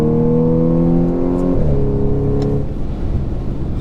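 A supercharged Audi S5 engine revving hard inside a short tunnel, loud and droning with steady harmonics, then dropping in pitch as the revs shift and settling into a rougher roar.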